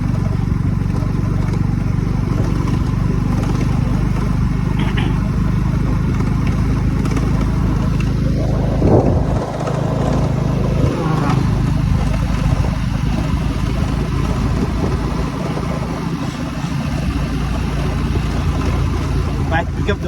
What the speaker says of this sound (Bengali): বাইক পিক আপ দেওয়া যায় না ঠান্ডায়।